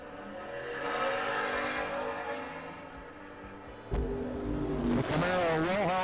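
A Camaro door car revs and launches at a drag race, engine droning steadily before a sharp burst near the end as the pitch climbs fast, loud and close under an announcer's voice.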